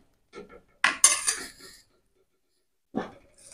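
A utensil scrapes and clinks against a pot as ripe mango is stirred into milk for a ras malai dessert, in a few short, close bursts separated by quiet gaps.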